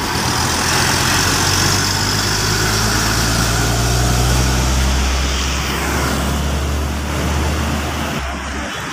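Mitsubishi Fuso build-up truck hauling scrap, idling and pulling out of a parking area at Tanjung Priok port, a steady loud diesel drone with low rumble, busy port traffic around it, continuous throughout.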